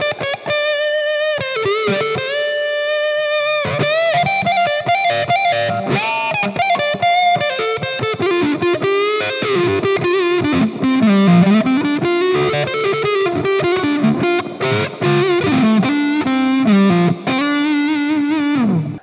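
Electric guitar on the neck pickup with the tone control rolled down, giving a warm, dark, muffled tone playing a sustained, singing lead line over a steady backing, loud and continuous throughout.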